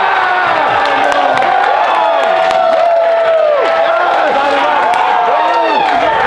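A large crowd watching a World Cup football match between England and Sweden, cheering, whooping and clapping loudly and continuously, with many rising shouts layered close together.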